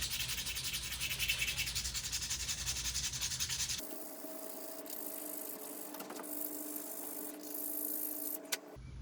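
A forged chef knife blade is worked with 220-grit sandpaper: a loud, steady rubbing hiss that abruptly changes to a thinner, rattly scraping midway, with a sharp tap near the end.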